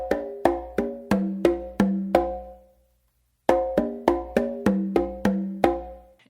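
Two runs of six or seven open slaps alternate between conga and tumba drums in a steady, even rhythm. Each slap is a bright, ringing crack, heard close and alone, with a short pause between the runs.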